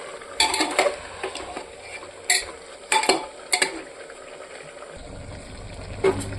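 Meat with turmeric being stirred and fried in a pan, a soft sizzle underneath with intermittent sharp scrapes and knocks of a utensil against the metal pan, close and fairly loud.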